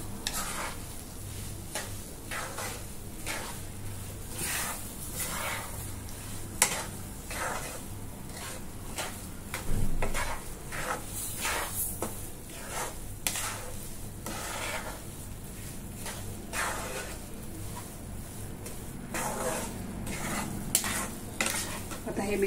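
Jaggery melting into a hot mixture in a pan for gulpapdi, an Indian sweet, is stirred with repeated scraping strokes against the metal over a faint sizzle, close and rhythmic with no voice.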